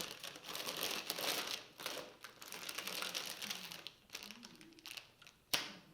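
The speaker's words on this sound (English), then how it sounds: "Cut the rubber band, pull off the packaging." Crinkly plastic wrapping being pulled off a bunch of cut roses, a continuous close rustle and crumple with a few sharper crackles, and a brief snap near the end.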